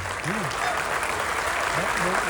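Audience at a film premiere applauding loudly, a dense sustained wash of clapping with voices and musical tones underneath.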